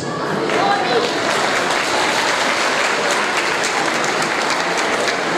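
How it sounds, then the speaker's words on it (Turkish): Wedding guests in a banquet hall applaud, a dense, loud, continuous clapping from a crowd that fills the whole moment. "Alkışlarınıza sonsuz teşekkür ediyorum."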